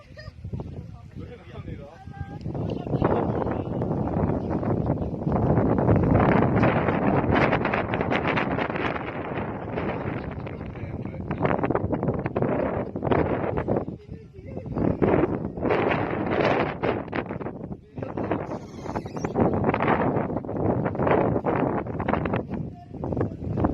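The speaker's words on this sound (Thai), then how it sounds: "ลมจะแรงหน่อยนะครับ" Strong wind buffets the microphone at an open viewpoint above rice fields near Kengtung, a loud, continuous roar with gusting surges, while someone speaks intermittently beneath it.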